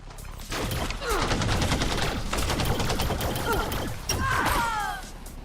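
Sustained ship-weapon fire in Elite Dangerous rattles in dense rapid bursts with crashing impacts and whistling sweeps, loud and continuous, while a voice speaks underneath.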